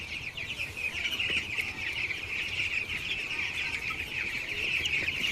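A flock of chickens clucks and chatters steadily on a rainy, overcast day, a continuous mid-distance murmur of calls with no one speaking.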